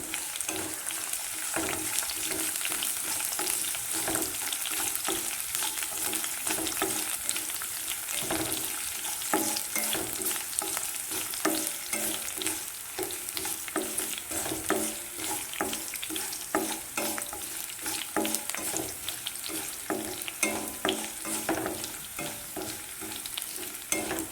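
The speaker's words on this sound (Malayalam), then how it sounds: "പൊട്ടി കഴിഞ്ഞപ്പോൾ അതിലേക്ക് വെളുത്തുള്ളി, വറ്റൽമുളക് ആഡ് ചെയ്തു. ഇനി ഇത് നമുക്ക് വഴറ്റാം." Garlic and dried red chillies sauté in a pan for mango pickle, giving a steady, close sizzle and crackle of frying with frequent stirring scrapes throughout, and no talking.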